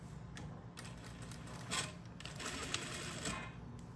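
Sewing machine running steadily as it stitches folded bias binding along a fold of fabric, the presser-foot guide keeping the seam straight; a continuous close mechanical whir for the whole stretch, with a brief louder surge partway through.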